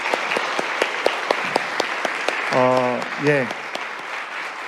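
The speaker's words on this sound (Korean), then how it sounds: "다시 한번 크게 박수하겠습니까?" A church congregation at a Sunday service claps steadily, a sparse, even patter of hands at moderate loudness, briefly interrupted partway through by a spoken voice.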